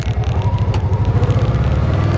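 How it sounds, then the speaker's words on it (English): Steady traffic on a busy street heard from a bicycle, a continuous low rumble of cars moving past with a pulsing, rolling quality and no talk. "There's a lot of cars here."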